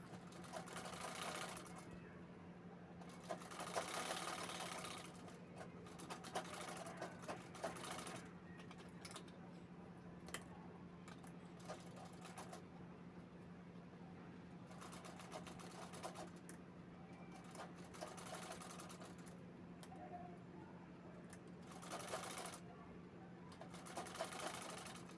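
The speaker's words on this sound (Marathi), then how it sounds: "आता साईडला आपल्याला राऊंड शेपमध्ये आपल्याला असं शिलाई करून घ्यायची आहे." Sewing machine stitching a rounded side seam on a shoulder sling bag made from leftover fabric, a zipper piece already attached; steady whirring bursts of stitching start and stop repeatedly over a constant low hum, close and moderately loud.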